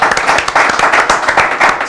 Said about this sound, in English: round of applause for Slim, people